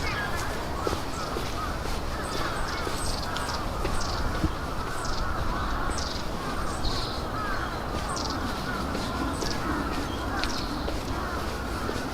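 Birds calling by the water in central Tokyo, a crow cawing repeatedly among scattered chirps over a steady outdoor hum, with footsteps and a faint voice in the background.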